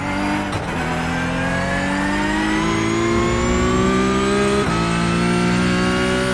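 Porsche Cup race car engine in iRacing at Zandvoort, a loud, continuous howl climbing steadily in pitch through the gears, with brief dips at shifts, close and dominant throughout.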